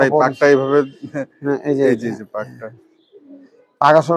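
A khaki tournament pigeon with fine dark speckling coos close by in a home loft, its low rhythmic calls mixed in with people talking nearby.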